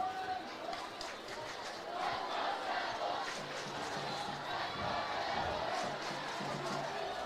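Dunbar fans at a high school soccer game against Henry Clay make a distant, roaring crowd noise that swells and ebbs, with a commentator talking over it.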